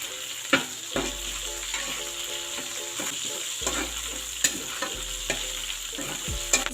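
Chicken fries in oil in a pan, browning. A loud, steady, close sizzle is broken by repeated spoon scrapes and knocks against the pan.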